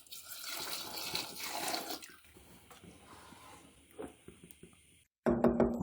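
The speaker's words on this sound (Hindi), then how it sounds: "अभी हम इसमें पोटली को रहने देंगे और तकरीबन 1 लीटर गर्म पानी मजीद ऐड करेंगे" Hot water is poured into a pot of simmering beef nihari, a steady splashing flow that lasts a few seconds, then thins to faint trickles and clinks before a louder burst near the end.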